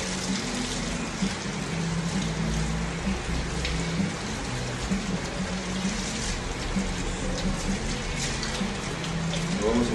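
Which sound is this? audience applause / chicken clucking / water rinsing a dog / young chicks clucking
water rinsing a dog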